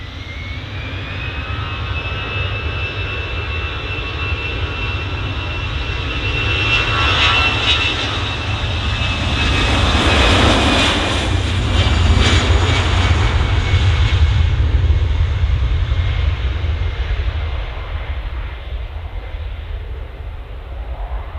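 EasyJet airliner departing for Liverpool, a loud jet engine roar with a high whining tone that swells as it passes close and then slowly fades, alone without talk.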